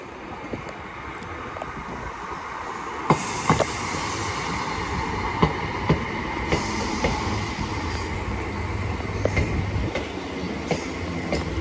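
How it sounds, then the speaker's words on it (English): A British Rail Class 319 electric train rolls in, a low steady rumble with sharp wheel clicks and clacks over the rails, heard fairly close at a station. "Train now terminating here. Looks like a 319."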